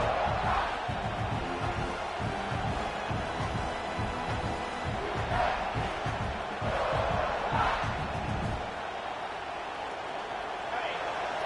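A big stadium crowd at a South Carolina college football game roars steadily near the goal line, a dense sustained cheer with surging swells, while a commentator talks over it.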